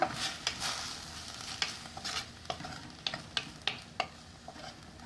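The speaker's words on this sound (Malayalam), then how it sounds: "ജസ്റ്റ് ഒന്ന് ഇളക്കി കൊടുക്കുക." A spoon scrapes and stirs snake gourd and egg with a little added water in a pan, with irregular clinks and a soft sizzle underneath; close and fairly quiet, no voices.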